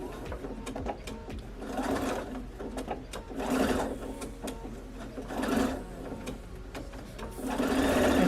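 A sewing machine stitches across thick foam for a bag, running in steady rapid bursts with brief pauses and small clicks, close and fairly loud.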